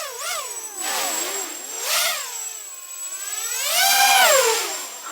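A RoboCat 270 FPV drone's motors whine and surge through a full-throttle punch, loud rising and falling high-pitched buzzing tones that sweep up and down in several waves, close by and alone.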